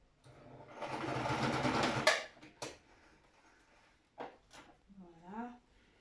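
A sewing machine stitches a fabric face mask in a short, close burst of rapid whirring, followed by a few soft handling clicks and brief speech.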